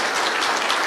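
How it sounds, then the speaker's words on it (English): A church congregation applauds during a Mother's Day service, a brief, steady wash of dense clapping at full volume with no voices standing out. "give her a round of applause"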